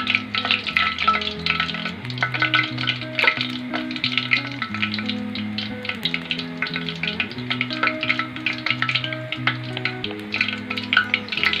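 Gram flour bhalle fry in hot oil, a busy crackling sizzle with rapid bubbling pops that continues steadily throughout, close up, with soft music underneath and no talking.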